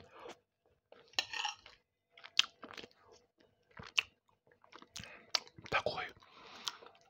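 Close, wet chewing of rooster aspic (kholodets), with soft squishes, small clicks and crunchy bites in an uneven rhythm, some quiet breathy mouth sounds mixed in.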